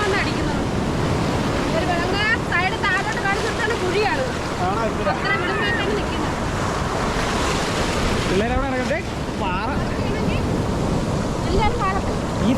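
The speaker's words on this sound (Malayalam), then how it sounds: "ഈ തിര വന്ന് അടിക്കണേണ്ട" Sea waves break and wash onto a rocky shore, a continuous loud surging roar with wind buffeting the microphone, while people talk over it.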